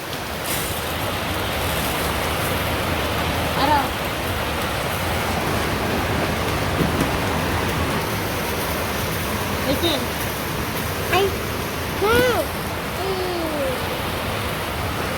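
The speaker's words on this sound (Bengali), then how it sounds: "তো ওই পাশে বৃষ্টি হইতেছে" Steady rain falls in a village, a dense even hiss that holds throughout, with a few short vocal sounds and voices rising briefly above it.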